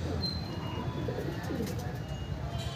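Two pigeons in a loft coo softly and repeatedly at close range, with a few light chirps and no talk over them.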